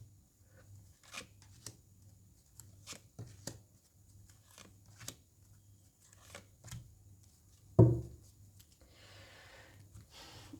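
Tarot cards being shuffled by hand: scattered soft taps and flicks, a sharper thump near the end, then a quick papery riffle burst, all close and quiet with no talking.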